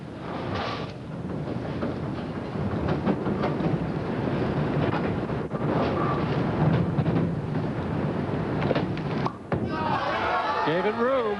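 A bowling ball rolls down the lane with a long, heavy rumble and strikes the pins during the 1997 Rochester Open professional bowling final, with thuds and clatter in a large echoing alley.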